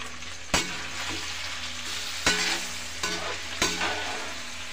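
Paneer pieces sizzle steadily in a pan, a continuous close frying hiss broken by a few sharp clacks of a utensil stirring against the pan.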